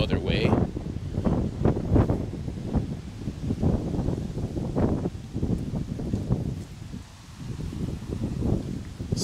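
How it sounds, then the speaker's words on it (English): Heavy wind buffeting the microphone in gusty, rumbling bursts throughout, loud and close, easing briefly near the end before picking up again. "Super windy."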